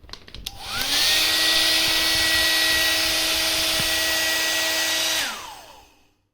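A Vega hair dryer switches on and blows with a loud, steady whine and airy rush for about four seconds, then winds down; no talking is heard.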